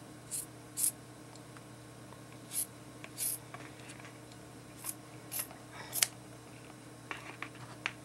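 Scissors snip through paper or craft cardstock in a series of short, crisp cuts spaced irregularly over a quiet room, a few close together near the end, with no talking.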